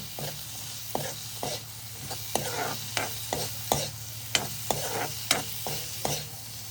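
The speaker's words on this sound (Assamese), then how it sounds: "তাৰ পাছতে মছলাখিনিৰ লগত ভালদৰে অলপ টাইম ভাজি ল'ম।" Cumin powder and garam masala frying in a pan for a paneer and pea curry, with a steady sizzle broken by repeated sharp scrapes of stirring, close and alone.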